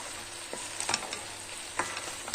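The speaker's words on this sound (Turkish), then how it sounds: "Bu da şimdi iyice kavrulacak." Meat and green beans frying in a pan give a steady, close sizzle, with a few spatula scrapes and stirring clicks breaking through now and then; no voices.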